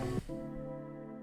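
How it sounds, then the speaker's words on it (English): A funky little piano from a free plugin with simple reverb plays a short chord. A change of notes gives way to a held, ringing harmony that decays softly with reverb. "I started with this just funky little piano."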